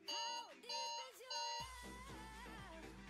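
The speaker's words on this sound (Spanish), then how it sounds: "La mía alarma." An alarm sounds in short, repeated melodic beeping bursts near the start, then gives way to excited talking over a low steady hum.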